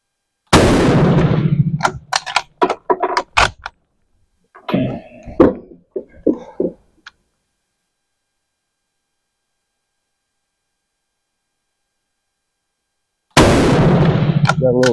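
A No5 Enfield rifle fires twice, once at the start and once near the end. Each shot is a sharp, loud crack with a rolling tail, and someone speaks briefly between them before a long silence.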